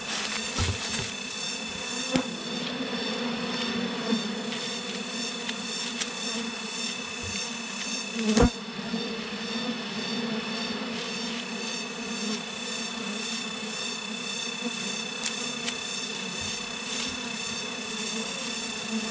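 Wild forest honey bees swarm around an opened hive, their dense buzzing a steady close drone with occasional louder passes of single bees near the microphone.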